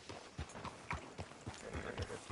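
Horse hooves clip-clop in a steady walking rhythm on a town street in the Red Dead Redemption video game, close and moderately loud with no talk.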